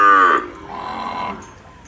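Cattle at a cow shelter, a single loud, close moo that begins strongly and then fades into a longer, lower drawn-out tail.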